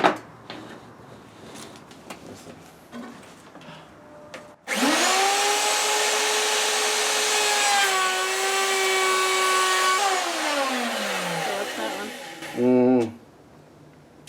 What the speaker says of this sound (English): Now all I have to do is router everything.